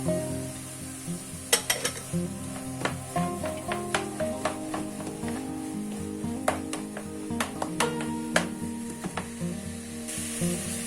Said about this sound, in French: On y ajoute la viande hachée.